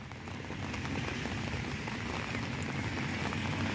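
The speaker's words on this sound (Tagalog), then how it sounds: "Tatapos na ang ulan." Rain falls steadily, a dense continuous patter and hiss of drops on surfaces that stays even in loudness throughout, with no voices.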